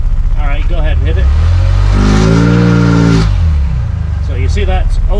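A Honda S2000 with its exhaust bypass valve open revs up and falls back in one loud, close rising-and-falling engine sweep, with voices briefly heard before and after.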